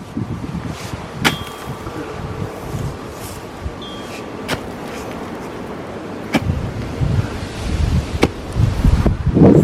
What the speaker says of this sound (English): the wind is blowing so hard out here today